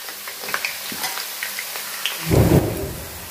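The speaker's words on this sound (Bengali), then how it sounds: "আর পেঁয়াজ দিয়ে দিতেছি, তেল গরম হয়ে গেছে।" Onions dropped into hot oil for a tomato fish curry, quiet crackle at first, then a sudden loud sizzling burst near the end as they hit the pan.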